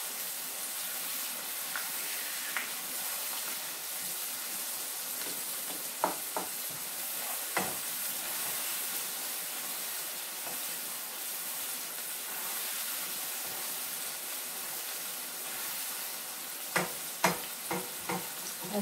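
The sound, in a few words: vegetables being stir fried in a pan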